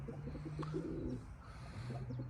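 Pigeons coo low and steady at close range, joined by a brief burst of fluttering wings.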